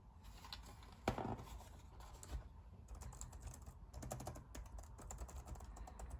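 Fingers type on a BFRIENDIT RB730 keyboard in quick, uneven bursts of soft clicks and clacks, heard up close at low volume in an otherwise quiet room.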